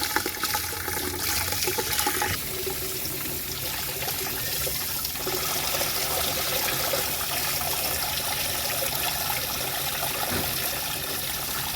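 An open tap runs continuously, giving a steady, close rushing stream of water that stays even throughout with no pauses and no one talking.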